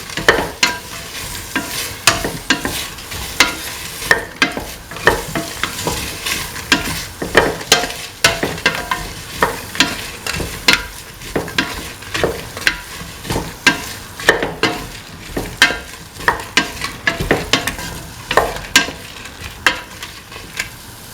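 Tomatoes and salt being stirred in a frying pan, steady repeated scraping strokes over a continuous sizzle, close and fairly loud with no talking.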